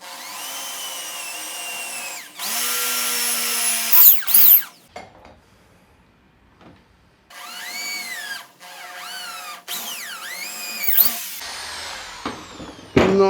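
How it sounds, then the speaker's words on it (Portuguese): A power drill fitted with an 8 mm bit bores a hole in wood while building a homemade wooden bench vise, its whine coming in several loud close bursts separated by quiet pauses. "Vou colocar a broca de 8 milímetros, aquela que eu faço o primeiro furo."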